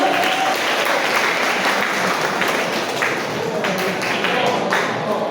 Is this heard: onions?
no